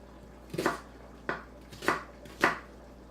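A knife coarsely chops onions on a board, four sharp separate strikes at an uneven pace, close and fairly quiet against a silent kitchen.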